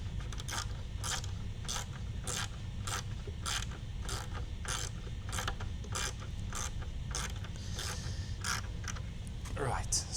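A ratchet tightens a bolt while a light is fitted to a Lamborghini Huracan, a close, steady run of crisp clicking strokes repeating about every half second over a low background hum.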